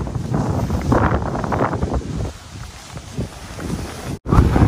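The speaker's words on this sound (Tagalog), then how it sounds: "Lakas mo ng hangin, parang itutulak naman." Strong gusts buffet the microphone in a rough, roaring rush that rises and falls, with a brief dropout near the end.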